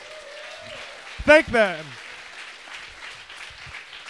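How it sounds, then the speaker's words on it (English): Moderate crowd applause for sponsors at the Hackcon II closing address runs in the background while someone speaks briefly and loudly over it. "Give them a round of applause."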